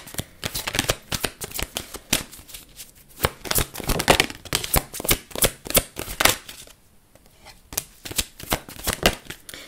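Tarot cards shuffle close by in rapid bursts of riffling slaps and flutters, loud and uneven, with a short pause near the middle before the shuffling starts again.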